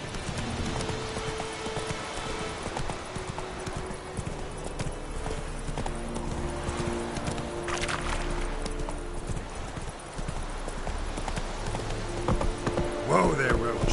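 Roach the horse in The Witcher game galloping, a steady rapid clip-clop of hooves throughout with a brief whinny near the end, while a voice speaks over it.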